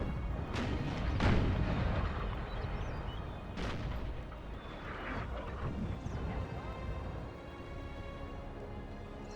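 Howitzer artillery fire in the Napoleonic battle game Napoleon: Total War, a few heavy booming discharges spread across a continuous rumbling battlefield din, some sounding closer and louder than others.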